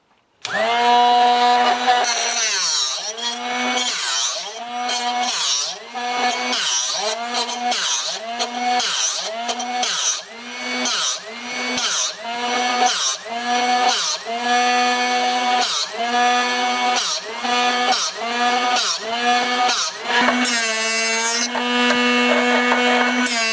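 A Drill Doctor 750x sharpening bench grinds a drill bit with a loud, steady motor whine, swelling in rhythmic pulses roughly once a second as the bit is turned against the wheel. No one speaks.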